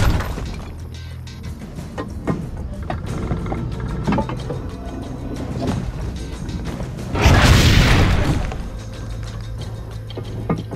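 A heavy cannon blast in Assassin's Creed Brotherhood booms once midway, loud and rumbling, amid scattered game thumps and clanks before and after.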